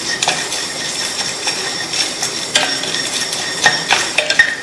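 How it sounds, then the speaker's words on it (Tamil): Whole spices (cumin, fennel, a cinnamon piece, star anise, cardamom pods and cloves) dry roasting in a pan for a cauliflower side dish, with close, irregular scraping and clinking of a spatula against the pan and a faint crackle underneath. "எல்லாத்தையும் வாசனை வர வரையும் வறுத்துக்கலாம்."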